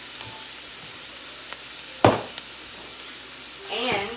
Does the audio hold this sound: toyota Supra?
no